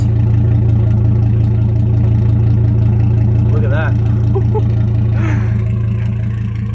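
A 2005 Chevy Colorado Z71 3.5-liter pickup with a Flowmaster Super 10 muffler: deep exhaust burbles at a steady idle, loud and close, with a brief rev and a voice speaking over it.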